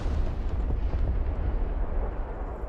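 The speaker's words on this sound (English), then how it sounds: "Artillery at your command, sir." Continuous rumbling artillery barrage in the video game Broken Arrow, dense low booms rolling together at steady loudness with no clear gaps.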